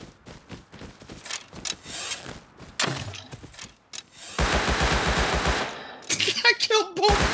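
Enemy gunfire in the survival game Rust: scattered sharp shots and a dense rapid burst crackle through the middle, loud and close, mixed with other game noise and a talking player.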